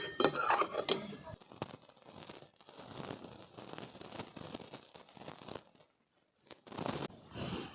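A pot of freshly made malai lifted off a stove, with close metallic clanks and scraping of utensils against the pan, a burst of clatter at the start, then steady rattling and a brief pause.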